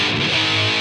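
Electric guitar played through a Friedman amplifier, a brief, loud, dense burst of distorted tone with sustained ringing harmonics and no voices.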